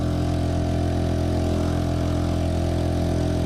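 A Honda 2.3 HP outboard motor on a Pelican Bass Raider boat runs steadily at half throttle, a loud, close, even drone with a constant hum and no voices over it.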